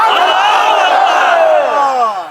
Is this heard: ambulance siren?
no